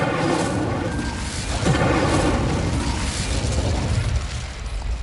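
Incendio fire spell cast in Hogwarts Legacy, a loud roaring, booming burst of flame that sustains as a dense rumbling whoosh through the whole stretch, close and with no talk over it.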